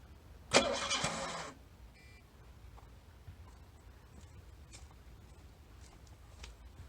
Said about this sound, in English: Starter is sounding less and less healthy.